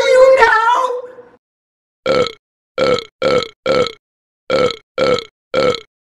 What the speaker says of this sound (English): Shut up and belch.